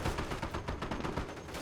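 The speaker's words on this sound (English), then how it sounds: "Greyhound firing away." A Greyhound armored car firing in a World War II real-time strategy battle: a quick run of rattling shots among overlapping gunfire, moderately loud within a busy battlefield mix.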